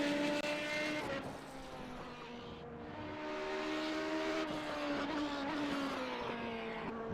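A race car on the Silverstone circuit during a victory lap, its engine droning with shifting pitch as it accelerates and eases off, steady and somewhat distant throughout, with no speech.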